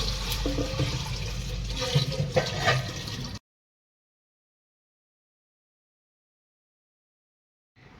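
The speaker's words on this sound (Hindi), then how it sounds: "मटकी में पानी भरने का काम भी है, उसे भी ख़त्म करना है सुबह सुबह" Water pours steadily into a clay pot in the morning, a close, rushing, splashing stream that lasts a few seconds and then stops, leaving silence.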